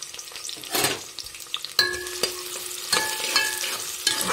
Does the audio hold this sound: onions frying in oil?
yes